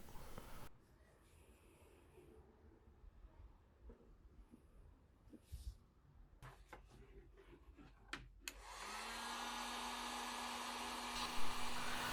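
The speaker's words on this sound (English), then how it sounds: "I like to heat up my asphaltum or my binder with a heat gun." Heat gun warming asphaltum binder for a black glass point knife handle switches on late and blows a steady, close whooshing roar after quieter handling noises.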